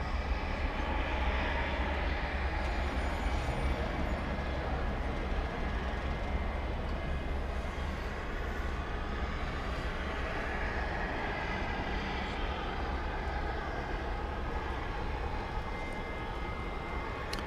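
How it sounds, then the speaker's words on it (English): American Airlines flight 3294, a passenger jet, taking off from runway 18 left at Dallas Fort Worth after dark, a steady, distant rumbling engine roar that holds evenly for the whole stretch. "American 3294, taking off using runway 18 left"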